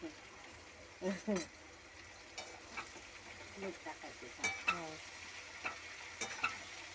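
Ridge gourd curry with turmeric, garam masala and ground peanuts gets stirred in a sizzling pan, with a spoon scraping and clinking in an irregular rhythm, and voices talking nearby at times.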